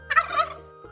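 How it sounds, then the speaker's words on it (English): A farm turkey gobbles once in a short, loud, rapid warbling burst, heard alone at close range. "This animal is a turkey."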